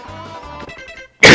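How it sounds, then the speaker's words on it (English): A person gives one sharp, loud cough right at the end, after soft Super Mario 64 game music and effects. "I just couldn't fix that fall because I was busy coughing"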